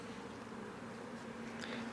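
Honeybees buzz in an open hive during a spring inspection, a faint, steady drone with a low hum running unbroken throughout.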